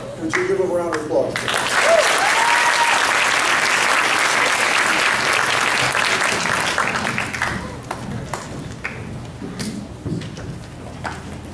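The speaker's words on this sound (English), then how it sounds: "Would you give them a round of applause?" An audience at a senior chapel ceremony breaks into loud, sustained applause that fills the room, then thins to scattered claps before fading.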